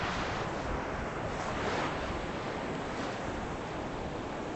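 Ocean surf rushes in a steady, dense wash of noise with gentle swells and some wind buffeting the microphone, continuous and fairly close, with no voices.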